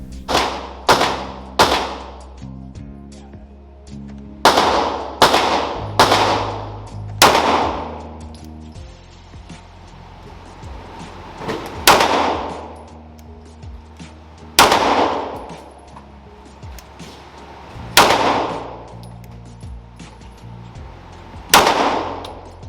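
Single pistol shots crack loudly at a shooting range, each followed by a ringing decay. They come in small irregular clusters spread over about twenty seconds, with quiet pauses between groups.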